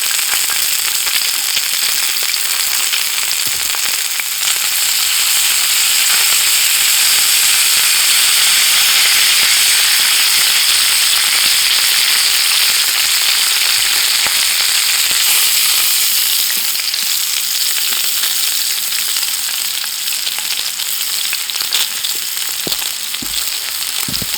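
Potatoes with rosemary fry in a cast iron pan on a firebox stove, giving a loud, steady, crackling sizzle with occasional pops and no talk.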